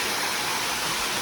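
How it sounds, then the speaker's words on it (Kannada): Water from a filled temple pond spills over and flows down this way, a steady, dense rushing wash with no voices, holding an even level throughout. "ಅದೊಂದು ಕೆರೆ ತುಂಬಿ ಈ ಕಡೆ ನೀರು ಹರಿಯುವಂಥದ್ದು"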